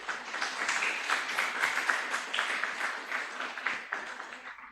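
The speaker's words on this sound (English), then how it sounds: "I think that itself deserves a round of applause." An audience applauds steadily, many hands clapping at once in a dense, sustained patter at moderate volume.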